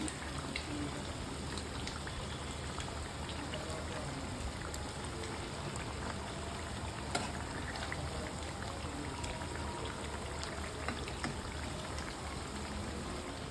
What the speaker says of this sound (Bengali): আমি একটু ভাজা ভাজা করে নিচ্ছি।